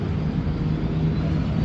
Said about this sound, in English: I'm on a bus here.